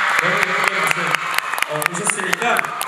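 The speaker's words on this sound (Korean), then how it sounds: "박수 한번 부탁드리겠습니다" A festival audience applauds with steady clapping beneath a loud voice talking over it, the claps audible as a continuous patter under the speech.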